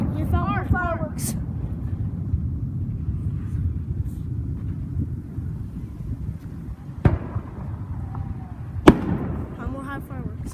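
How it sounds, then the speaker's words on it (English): Fireworks go off in a street with a few sharp bangs and cracks scattered over a low rumbling background, while people talk nearby. "We found more fireworks."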